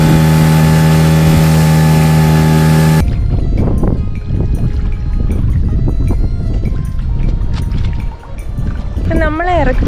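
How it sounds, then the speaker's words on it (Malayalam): Boat engine from a departing boat leaving an island off Diglipur in the Andaman Islands, a steady motor drone that carries on beneath the talk of nearby people. "നമ്മളെ ഇറക്കിയ ബോട്ട് തിരിച്ചു പോവാണ് കേട്ടോ."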